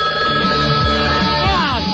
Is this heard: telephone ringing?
yes